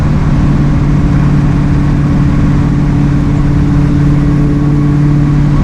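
An LS-swapped Dodge Dakota engine holds a loud, steady roar under heavy throttle, heard from close range as a deep, constant drone with a strong low hum.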